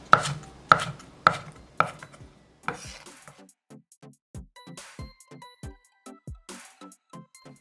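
A knife slices a green onion into half-centimetre pieces on a cutting board, crisp evenly spaced chops, a few louder strikes first and then a quieter steady run of cuts, close and alone.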